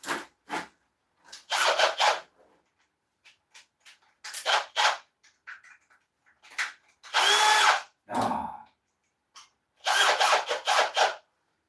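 A power drill fitted with an 80 grit 2-inch sanding disc sands an ash bowl on a woodturning lathe, loud whirring bursts of a few seconds each separated by short silences.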